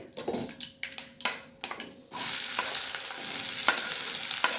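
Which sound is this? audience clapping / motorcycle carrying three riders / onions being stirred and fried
onions being stirred and fried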